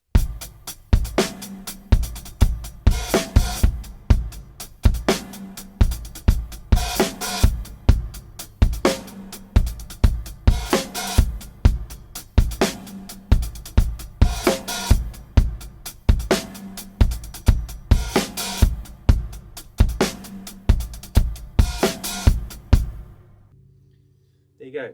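A live drum kit plays a quick beat, with kicks, snare hits and open hi-hats in a fast, steady syncopated pattern, loud and close, running alone until it stops near the end.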